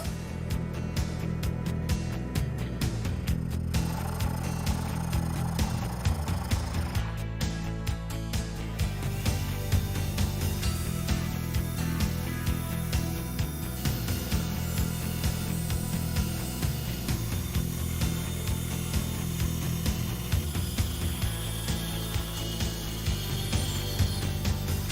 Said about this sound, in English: the next step is going to be to bandsaw the side profile of the handle out